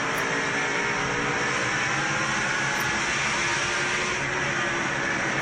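A NASCAR stock car engine, Tony Stewart's car, screams at around 8,900 RPM on a half-mile racetrack at the 2007 Sharpie 500, a continuous loud high-revving roar with no pauses and no talk.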